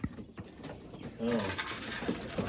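Racing pigeon, an old blue bar with white flights, cooing in a loft, a few soft throaty coos with other birds and people talking nearby.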